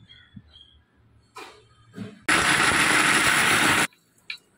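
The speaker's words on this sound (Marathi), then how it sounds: "चला आता आपण शेंगदाणे मिक्सरला वाटून घेऊया" A kitchen mixer grinder coarsely grinding peanuts whirs loudly for about a second and a half in one steady burst, preceded by a few small clicks and handling noises.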